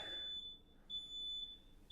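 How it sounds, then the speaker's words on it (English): A smoke alarm goes off inside a house while someone cooks downstairs: a faint, distant, high-pitched electronic tone that sounds steadily, breaks off briefly, then resumes. "There is a fire alarm going off, or a smoke alarm."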